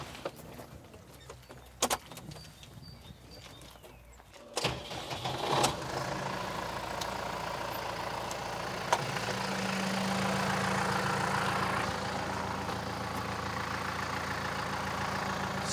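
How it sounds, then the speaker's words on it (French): A tractor engine cranks with a few clicks and clunks, catches and starts, then settles into a steady, loud, close idle that grows slightly stronger and holds to the end. "Donc, je démarre le tracteur, comme ça je vais vous montrer après comment ça marche."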